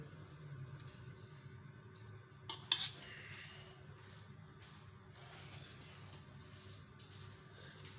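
A spoon stirs spiced masala and yogurt in a pot for a chicken roast, with quiet scraping and a brief clatter of metal on metal against a soft kitchen background.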